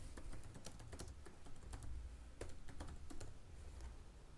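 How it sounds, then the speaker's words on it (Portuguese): Quiet, close typing on a computer keyboard: irregular bursts of crisp key clicks with short pauses between words, and no voices. "E vou escrever qualquer texto aqui."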